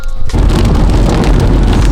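Thunder in rainy weather: a sudden heavy low rumble breaks in after a brief quieter moment and rolls on loudly with the hiss of rain through the rest.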